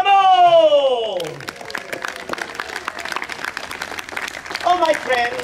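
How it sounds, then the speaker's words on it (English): An audience applauds after a speaker's rising exclamation, scattered clapping that follows a voice and continues beneath brief speech toward the end. "Let us applaud them all!"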